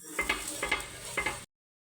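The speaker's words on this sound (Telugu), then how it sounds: "గ్యాస్ ఆన్ చేసుకొని దోశ పెన్నం పెట్టుకొని పెన్నం మీద చుక్క నూనె వేసుకొని ఆనియన్తో అంతా స్ప్రెడ్ చేసుకోండి" Oil sizzling on a hot dosa pan as onion is rubbed across it, with three soft scraping bursts of stirring over a steady fry hiss, close and moderate, then cutting off abruptly.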